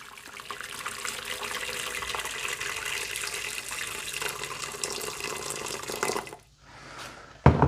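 Water runs into the bottom of a pressure cooker, a continuous close splashing pour for about six seconds that stops abruptly, followed by quieter handling sounds and a final clunk.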